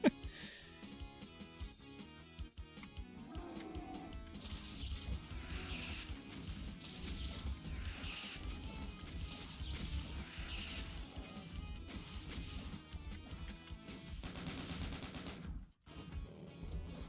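Gunfire from the video game DOOM, rocket launcher and other weapons, rattles in dense, continuous bursts with crashing blasts, loud and sustained for most of the stretch before a brief drop near the end.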